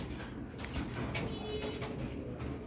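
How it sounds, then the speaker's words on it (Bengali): Danish pigeons cooing close by, a low throaty burble that repeats over a continuous rumbling background at a pigeon sale. "এখানে আরো এক জোড়া কবুতর আছে। তো এইটাও হচ্ছে ডেনিশ কবুতর একটা জোড়া।"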